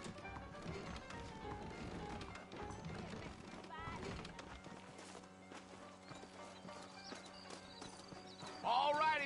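Horses clip-clop steadily through a town in Red Dead Redemption, hooves thudding in rhythmic patter amid game ambience and background music, with a brief neigh near the end.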